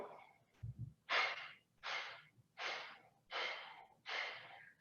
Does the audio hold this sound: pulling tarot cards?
no